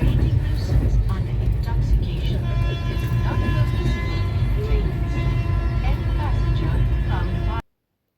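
Steady low rumble of a running train, heard from inside a carriage on a ride toward Dakshineswar, with continuous rolling noise and faint background chatter throughout before cutting off abruptly.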